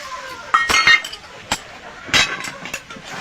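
A utensil stirs rice flour mixed with water in a bowl, giving a few sharp clinks and scrapes against the container at irregular intervals, close and fairly loud with quiet gaps between.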